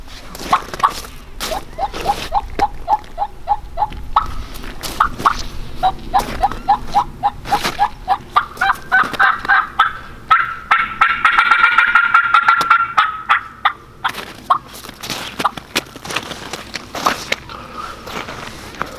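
Rhythmic turkey hen yelps and clucks made on a mouth call imitating a hen's morning fly-down, building into a louder flurry mid-clip before tapering back to soft clucks.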